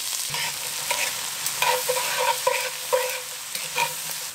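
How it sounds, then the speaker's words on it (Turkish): Onions and vegetables sizzling in a pot after browned veal shank for osso buco, a steady soft frying hiss broken by several bright scraping stirs of a utensil, close and moderately quiet, with no voices. "Hemen arkadan soğanları ve sebzeleri üzerine ekliyorum."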